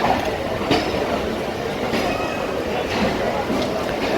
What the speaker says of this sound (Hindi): आहिस्ता आहिस्ता जाफ़र एक्सप्रेस अपनी स्पीड जो है वो पिक कर रही है, अपनी स्पीड में इजाफा कर रही है